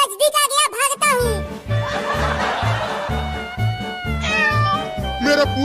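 A cartoon kitten gives a quick burst of loud, squeaky meows and then keeps mewing over upbeat cartoon music with a pulsing beat, with playful voices and laughter mixed in.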